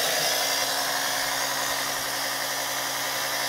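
A Volvo Penta KAD32 marine diesel engine runs steadily in a boat's engine bay during a service, a loud, close, continuous drone with a constant vibrating hum and no voices.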